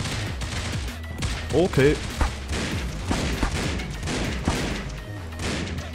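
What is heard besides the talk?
shotgun gunfire in the video game Critical Ops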